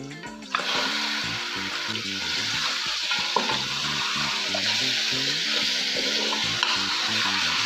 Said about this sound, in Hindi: 30 सेकंड तक मैंने चिकन को फ्राई किया है